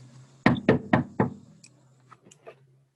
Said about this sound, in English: I just got a knock on the door.